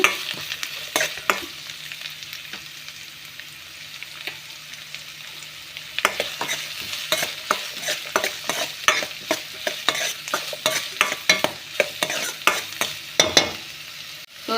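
Garlic and onion fry in a pan for a tomato gojju, sizzling under a quick run of scraping and tapping spoon strokes that grow busier partway through, close and without talk.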